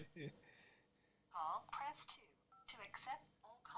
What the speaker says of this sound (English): Oh, we got our prison phone call right now.